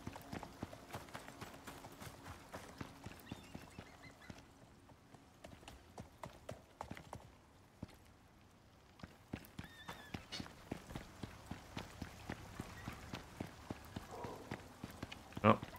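Horse hooves walking in the video game Icarus, soft repeated hoofbeats that pause briefly midway then resume at a steady pace, fairly quiet throughout.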